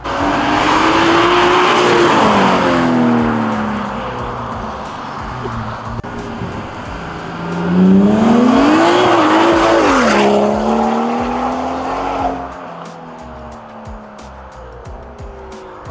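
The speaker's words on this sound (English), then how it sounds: "So we're gonna do a flyby and you guys are gonna get an idea of what this car sounds like." A stock BMW with a B58 engine does a flyby, its engine note rising as it approaches, swelling to a loud pass around the middle with a brief tire squeal, then fading and dropping in pitch as it moves away.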